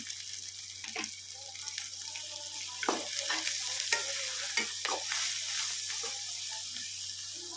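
Fenugreek leaves frying in oil as a spoon stirs them, with irregular scraping strokes over a soft, steady sizzle at close range.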